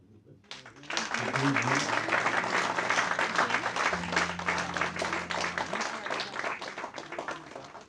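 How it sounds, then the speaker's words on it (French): A crowd breaks into dense, sustained applause after a short lull, loud and even for several seconds, with a voice talking over the clapping. "Applaudissez-vous ça pour nous, s'il vous plaît"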